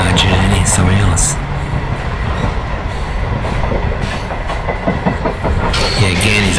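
An Australian interstate passenger train arriving at Adelaide, rolling past close by with a loud continuous rumble, rhythmic clatter of wheels over rail joints, and brief squeals, with voices talking over it.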